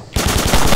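Rapid automatic gunfire in a World War II shooter set at Oosterbeek, a loud, sustained burst of shots that starts abruptly and keeps up a steady, close rattle.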